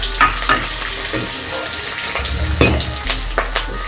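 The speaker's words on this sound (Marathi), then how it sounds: "कांदा तेलामध्ये परतून घ्यायचा" Onion frying in hot oil in a pan for lehsuni palak, a loud close sizzle broken by repeated scraping and stirring strokes, with no talk over it.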